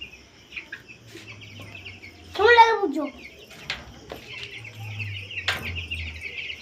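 Hens clucking in a yard where a white hen is about to be caught, with a brief loud squawking burst mid-clip and softer clucks around it, while children talk throughout.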